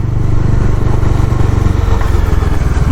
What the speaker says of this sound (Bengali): বাইকটা চলেছে